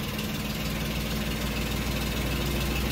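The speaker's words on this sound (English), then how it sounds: "A running Daimler." Old Daimler limousine engine idling steadily after sitting abandoned for 32 years, a continuous low rumble with a slight knock, close and unbroken throughout with no talking.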